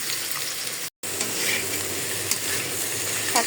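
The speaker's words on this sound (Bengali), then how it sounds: "এখন বাগার দিয়ে দেই। বেশি করে দিয়ে দিলাম পেঁয়াজ রসুন।" Chopped onion and garlic sizzle hard in hot oil as a tempering for gourd greens, a dense continuous crackling hiss, close and loud, broken by one momentary dropout.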